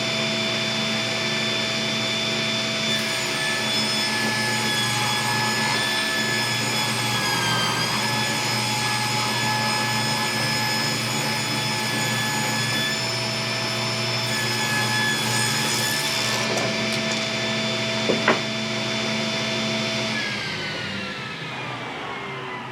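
A Delta 10-inch table saw edges yellow cedar 2x6 boards, its steady loud whine and blade hum running continuously for about twenty seconds with a brief knock near the end before winding down.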